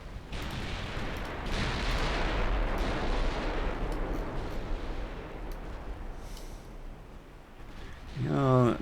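Units fire their weapons in a Greek campaign strategy video game, a dense, continuous crackle of gunfire and booming volleys that holds steady for several seconds, with a sharper burst near the end.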